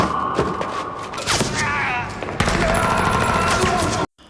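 Gunfire in a gangster film scene, heard as loud bursts of automatic fire and heavy shots packed with thumps and booms, running almost continuously before cutting off abruptly.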